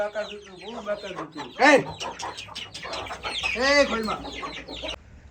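Roosters cluck and call close by on a farm, bursts of fowl vocalizations repeating across the scene, with a person talking intermittently among them.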